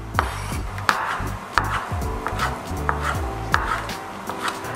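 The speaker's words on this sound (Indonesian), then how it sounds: "Pertama daging ham, smoked beef, potong bagi 4" Knife chopping smoked beef ham into small cubes on a cutting board, a steady run of close, sharp thuds with some uneven pauses and no talking.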